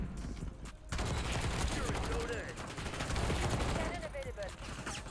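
CR-56 rifle bursts from Black Ops 6, rapid repeated shots in clustered volleys with brief pauses, loud and close, with faint game ambience and no clear speech.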